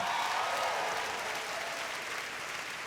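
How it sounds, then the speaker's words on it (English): Comedy show audience applauding during a stand-up special, a dense, even wash of clapping from a large crowd, loud and sustained throughout. "Round of applause, everybody."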